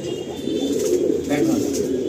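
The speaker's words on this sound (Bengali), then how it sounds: "এরকম প্রচুর পায়রা রয়েছে আড্ডা সেকশানে" Pigeons in a loft coo in a low, continuous murmur that fills the whole stretch, with several birds overlapping at close range and no clear breaks between calls.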